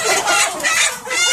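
Chickens on a Vietnamese chicken farm of about 3,000 birds cluck continuously and loudly, with a rooster-like crow rising among the dense flock noise and no talking.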